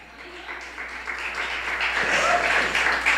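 Crowd applause at a church service rises gradually from moderate to loud, a dense patter of many hands clapping together, continuous throughout.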